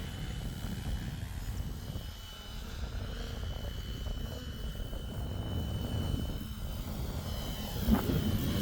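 A Flywing Bell 206 RC helicopter fitted with a FlishRC L7 flies on its first flight, giving a steady, faint rotor drone and whine that holds evenly throughout, with no talk.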